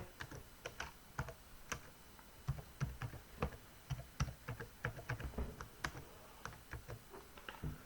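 A password is typed on a computer keyboard: quiet, irregular key clicks in short bursts with brief pauses, close and alone.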